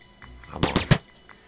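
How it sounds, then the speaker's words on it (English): Shooter video game gunfire, a quick run of three or four sharp shots close together, moderately loud over faint background game sound. "How many times I gotta shoot you"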